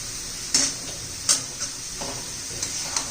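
A spoon scraping and knocking in a pan of cabbage and peas curry as it is mixed, several distinct clacks spaced about half a second apart over a soft sizzle, close by, with no talk.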